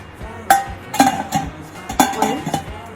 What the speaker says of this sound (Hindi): अब मैं अपने मोल्ड को इस कुकर में